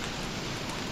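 Steady rain falling in the survival video game Don't Starve, a continuous broadband hiss that stays even and fairly close for the whole second, with no voices.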